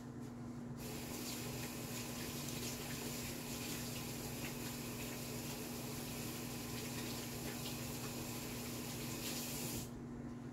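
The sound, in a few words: tap water running while washing hands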